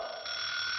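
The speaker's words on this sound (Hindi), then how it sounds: "सुबह सुबह ये अलार्म क्यों बजने लगा?" A morning alarm clock rings with a steady, shrill electronic buzz held continuously and loud throughout the short moment, with no talking.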